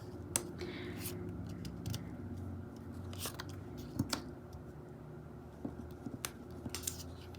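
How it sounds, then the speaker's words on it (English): Scissors snipping through 2x2 plain cardstock paper, several quiet, sharp cuts spaced irregularly over a faint background. "you'll have to cut out 2x2 papers to cover these up"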